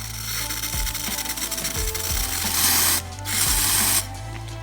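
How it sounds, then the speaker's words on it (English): Close, hissy bursts of a pump spray bottle, several sprays in a row with short pauses, over a steady mechanical hum. "Give it a few pumps, and this one already sprays good."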